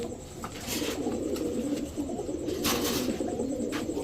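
Pakistani Gola pigeons kept in a loft coo nearby in repeated soft, throaty, low calls over a steady background hum, with no talking.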